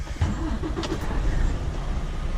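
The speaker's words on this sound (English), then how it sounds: "Just dropped an empty, start the truck up," Semi truck diesel engine cranking and catching, then settling into a loud, low, continuous idle rumble close by.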